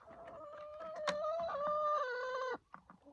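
Chickens cluck and squawk close by while pecking at honeycomb, one drawn-out loud call holding for over a second before breaking off into a few short clucks.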